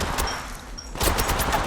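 Heavy weapon gunfire in a video game, a rapid burst of loud automatic shots following a brief lull, close and dense, with no voices.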